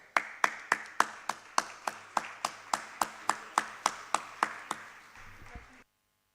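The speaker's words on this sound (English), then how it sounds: "Please have a huge round of applause for him." Audience at a medical conference applauds a speaker, a steady run of sharp, evenly spaced claps that carries on for several seconds before stopping abruptly.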